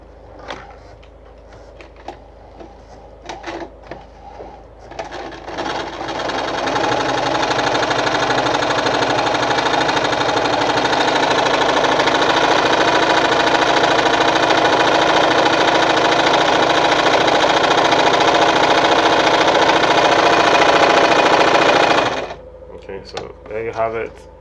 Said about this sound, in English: So I want to sew this now.